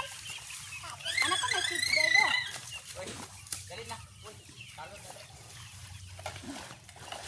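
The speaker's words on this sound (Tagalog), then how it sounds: "Ang daming itik." A large flock of young ducks chatters and peeps nearby in a rising, busy burst, then settles into softer scattered calls, with people talking quietly at times.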